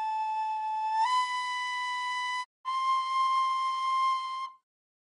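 A recorder plays sustained, pure-toned notes: one held note steps up to a higher pitch, breaks briefly, then resumes and holds before stopping.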